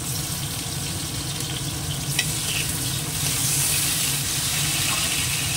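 Tomato tipped into onions frying with cumin in a pan, giving a steady, close sizzle and hiss with light stirring scrapes throughout, swelling slightly louder partway through.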